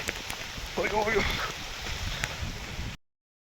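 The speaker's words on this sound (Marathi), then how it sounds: "लय पाऊस आलाय" Steady hiss of a heavy retreating-monsoon downpour with strong wind fills the recording, with a voice talking over it partway through and gusty rushing noise throughout.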